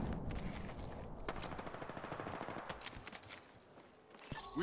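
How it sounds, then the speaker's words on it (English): Automatic gunfire in the video game Apex Legends, a dense sustained burst of rapid shots with overlapping impacts during a firefight, loud and continuous with a brief dip before a final flurry. "I am taking fire."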